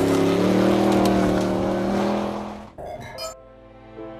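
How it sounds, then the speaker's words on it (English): Bowler EXR off-road rally car with a V8 engine, revving loud and close with a continuous growling roar that drops off abruptly near the end, leaving quieter engine noise. "that awesome noise of the V8 just grunting and growling as you make it work"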